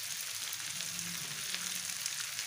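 Chicken and potato filling for mughlai paratha frying in a pan, a soft steady sizzle with faint stirring, fairly quiet and without talk.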